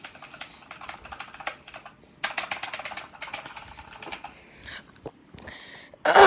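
Typing on a Redragon K552 mechanical keyboard with Cherry MX Blue switches, rapid clicky keystrokes in bursts with short pauses, close and crisp, ending on a louder clack.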